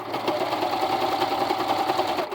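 A serger stitching a purse seam runs in a fast, even mechanical whir with a rapid needle chatter, steady and close for a couple of seconds without pause.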